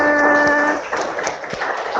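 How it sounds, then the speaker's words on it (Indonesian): A classroom of students applauds a group presentation, a dense patter of clapping over about two seconds with a sustained tone at the start that fades quickly. "Beri tepuk tangan untuk kelompok 5."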